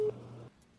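A telephone tone sounds while a call is being placed, one short steady tone under half a second long that then cuts to near silence, with no talk.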